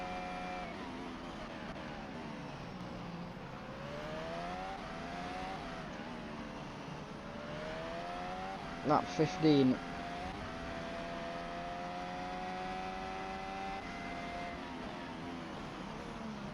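A Dams Haas F2 race car at the Macau Grand Prix, heard from the onboard camera, screams through steady high-revving engine notes that climb and drop with each gear change, with a short burst of clatter partway through and a commentator talking over it.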